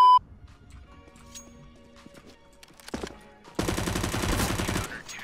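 UMP submachine gun fire in a video game gunfight, a loud dense burst of rapid automatic shots erupting after quieter in-game ambience and lasting to the end.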